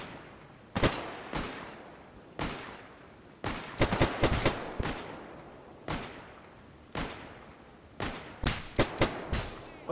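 Gunfire in S.T.A.L.K.E.R. GAMMA: a steady run of loud, sharp shots with echoing tails, some single and some in quick pairs or triples, spread across the whole stretch.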